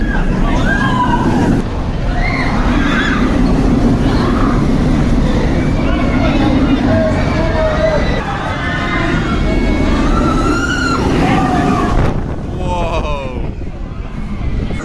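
A rider in the back row of the Monster roller coaster at Gröna Lund, with a loud, steady roar of wind and rushing track that swells and shifts throughout, and voices and screams mixed into the rumble.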